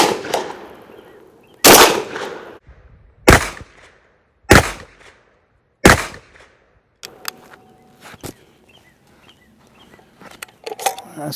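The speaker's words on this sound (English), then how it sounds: "run another round of 5 slugs, and we'll see if the VR80 will do okay with rapid fire" A Rock Island Armory VR80 12 gauge shotgun fires slugs in rapid succession, with sharp, loud blasts spaced about a second apart, then quieter clicks and mechanical handling noises toward the end.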